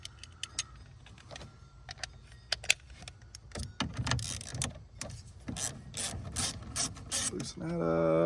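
A ratchet on an extension clicks and rasps while loosening a bolt on a GM truck, first in sparse single clicks, then in quicker close bursts, ending with a steady whirring hum.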